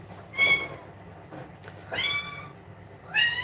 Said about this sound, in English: Jean Pierre, that's my cat.